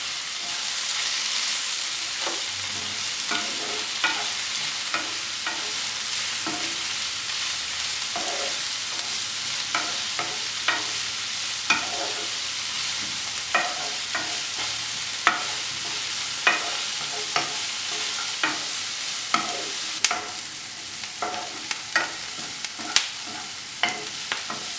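Ginger, garlic and green chilli sautéing with sliced onion in a pan for a broccoli-paneer masala, a steady bright sizzle broken by repeated scraping stirs of a spoon at an uneven rhythm, close and without talk.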